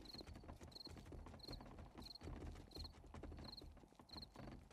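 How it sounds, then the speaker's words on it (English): A crowd of creatures walking in the zombie survival game 7 Days to Die, producing a steady patter of many overlapping footsteps with a regular repeating higher tick, faint and distant with no talk. "That's a lot of footsteps"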